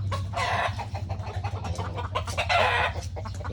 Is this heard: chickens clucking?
yes